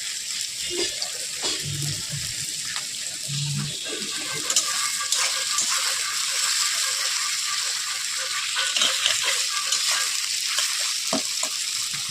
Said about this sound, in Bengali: এগুলো একটু ব্রাউন শেপে ভাজা ভাজা করে ফেলবো।